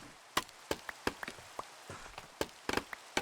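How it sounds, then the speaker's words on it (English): Rain in the Pocket Craft SMP video game falls as scattered, irregular taps and drips close by, with a light background wash and no talking. "sorry that it's raining just 24/7 while I'm doing this swamp build makeover"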